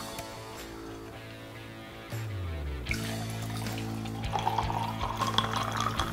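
Seltzer water in an opened can, resealed with a silicone cover, fizzing and crackling softly up close after a pour-like rush, the bubbling growing busier toward the end.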